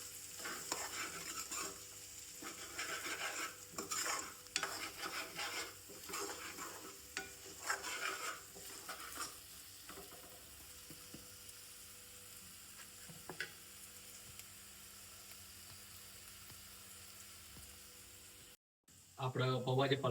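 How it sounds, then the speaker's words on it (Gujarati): A spoon stirs a potato poha mixture with spices in a frying pan, scraping and clattering steadily over a soft sizzle for most of the stretch, then growing quieter before a brief louder burst of stirring at the end. "સારી રીતે મિક્સ કરી નાખીએ."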